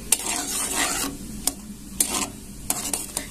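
Sabudana mixture frying and being stirred in a pan for a sabudana barfi sweet, with a steady sizzle and repeated sharp scrapes of the spoon against the pan. The sounds are close and loud, and no one speaks.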